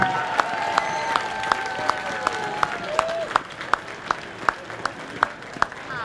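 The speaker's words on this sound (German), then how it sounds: "habt ihr einen Applaus nochmal verdient?" An audience at a horse race applauds the winners in a loose, fairly distant patter, while a few sharp rhythmic knocks repeat through it and tones sweep in the background.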